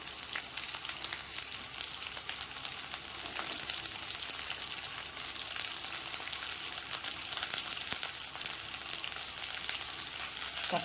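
Garlic, ginger and onion sauté in hot oil in a pan for drumstick leaf chutney, giving a continuous dense sizzle with faint crackles throughout and no talking.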